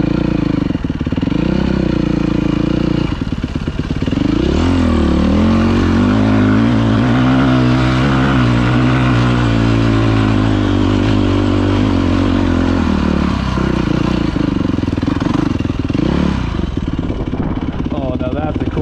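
A motorcycle engine roars steadily as the bike rides off across the Nevada desert, loud and sustained with wind rush throughout.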